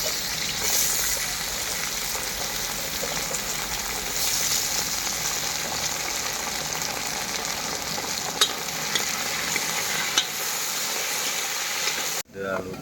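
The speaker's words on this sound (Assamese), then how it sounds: "এতিয়া আলুটো ভাজি কৰি লওঁ" Potatoes fry in hot oil in a wok (kerahi) with a steady, close broadband sizzle that runs throughout, with occasional stirring clinks and a brief drop near the end.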